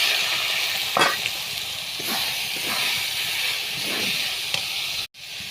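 Sago tossed into hot oil with cumin seeds, dried chili and curry leaves, a steady close sizzle and hiss broken by a few stirring scrapes, ending in a sudden clunk.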